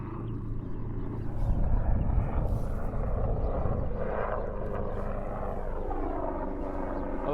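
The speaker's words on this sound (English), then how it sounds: "Looks like a very expensive helicopter." A helicopter flies over a golf course, its engine and rotor noise forming a steady, fairly loud rumble that swells slightly, then holds throughout with no talk.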